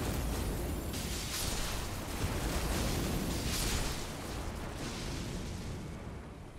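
Loud, sustained explosive rumble in Elden Ring, a broad roaring blast that swells and holds for several seconds before easing slightly, with no voices over it.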